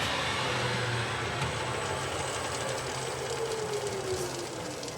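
A Boxford BUD metal lathe spins down after being switched off, a steady mechanical hum with a slowly falling whine fading through the run-down.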